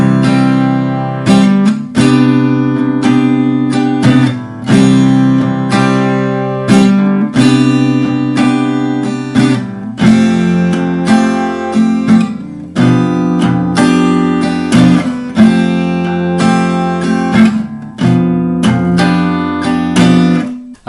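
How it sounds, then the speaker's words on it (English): Acoustic guitar strumming four main chords simply in a steady rhythm, bright and close, with clear changes between chords and no voices. "If I just strum those very simply"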